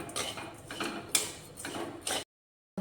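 A rice-flour mixture for ras puli pitha is stirred in a pan over a low flame, with repeated scraping and grinding strokes of a spoon against the metal, close and rhythmic, ending in sudden silence.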